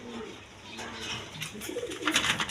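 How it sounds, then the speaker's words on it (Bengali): A white Bombay male pigeon coos in low, soft repeated calls close by, with a brighter burst of chirpy bird sounds rising near the end. "এখানে একটা বোম্বাই নর আছে বোম্বাই নর কবুতর সাদা কালারের মধ্যে"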